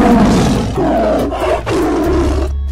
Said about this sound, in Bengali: আর গুহার পেছনে গিয়ে হালুম বাঘ হুঙ্কার দিয়ে উঠল।